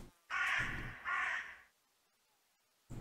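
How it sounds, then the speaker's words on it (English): A crow in the video game The Last Door gives two loud, harsh caws in quick succession, each drawn out and raspy, followed by silence and the onset of another call at the very end. "That was a loud crow."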